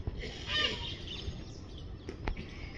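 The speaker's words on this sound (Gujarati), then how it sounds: "અહીંયા મોર પણ છે." A peacock in Victoria Park, Bhavnagar, gives one brief, fairly faint call near the start, followed by soft park ambience and a couple of light distant clicks.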